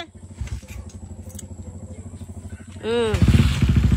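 A small motorcycle engine idles with a rapid putter, then revs up loudly near the end while a voice speaks briefly over it.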